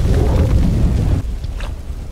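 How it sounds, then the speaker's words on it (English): A grenade thrown at a car in an action film sets off a massive explosion: a loud, sustained low rumbling blast that fills the first second before dropping to a quieter, crackling aftermath. "Walker threw a grenade at the car, causing a massive explosion that left the hitman dying."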